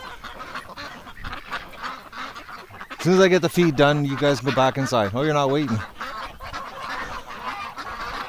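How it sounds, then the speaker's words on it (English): Ducks by a barn in a freezing winter storm burst into a loud run of honking quacks for a few seconds, close by, with a person talking before and after. "Oh, ducks."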